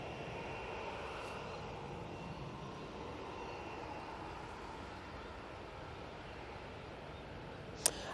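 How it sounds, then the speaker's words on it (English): A TUI Boeing 737-800 departs Manchester Airport for Skiathos as a faint, distant, steady jet roar, unbroken throughout, with a single sharp click near the end. "We do have this TUI off to Skiathos now, using the 737-800."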